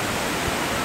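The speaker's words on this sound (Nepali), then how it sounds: "एकदमै मनमोहक झरनाहरू खसिरहेका छन्" Baudeshwor waterfall near Kathmandu pours down in a steady, broadband roar, close and even throughout the brief moment with no other sounds.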